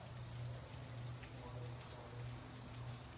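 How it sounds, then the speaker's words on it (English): Steady rain falls in Los Angeles, a continuous dense patter that holds at an even level throughout with no voices. "Oh my God, it's raining."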